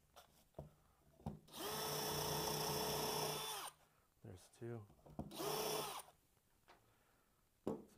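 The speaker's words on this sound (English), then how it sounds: "I'm going to countersink just a couple of these holes." A power drill countersinks holes in wood while building an outdoor toss hook game, giving two sustained whining bursts of about two seconds each with short clicks and handling noise between them.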